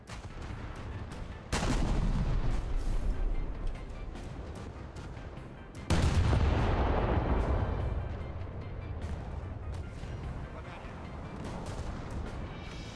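Heavy cannon fire in War Thunder with two loud booming shots that ring out and decay slowly, over a continuous rumble of distant gunfire and battle noise.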